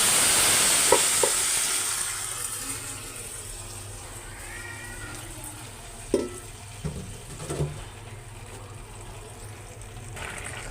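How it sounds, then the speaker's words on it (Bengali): Curry is poured into hot oil with browned fried onions, bursting into a loud sizzle that settles into a quieter crackling hiss, broken by a few stirring knocks and scrapes. "তরকারিটা আমি এখন ঢাইলা দিই"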